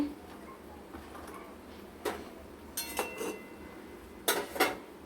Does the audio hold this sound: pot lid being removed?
yes